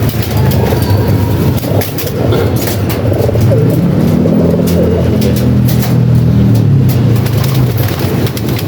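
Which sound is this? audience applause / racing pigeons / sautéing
racing pigeons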